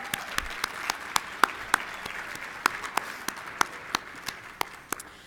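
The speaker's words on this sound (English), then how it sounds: "Give them a round of applause, please." Sparse audience applause at a conference closing session, a handful of distinct, fairly loud claps spaced irregularly over a soft background patter.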